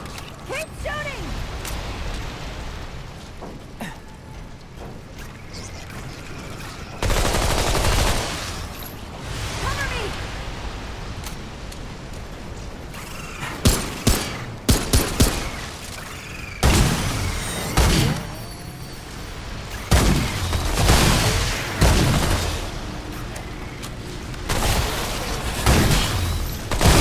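Repeated bursts of sustained gunfire, loud and close, with sharp clustered shots and booming impacts arriving in irregular volleys over a mechanical, rumbling background.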